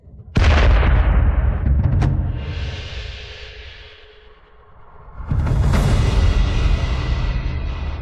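A bomb explodes with a sudden, massive blast that rolls into a long rumbling roar and slowly fades, then a second deep boom bursts out and keeps rumbling loudly.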